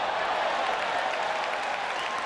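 A large baseball crowd at Fenway Park cheers and applauds during a Chicago White Sox game against Boston, a dense, sustained roar of clapping and voices filling the whole stadium.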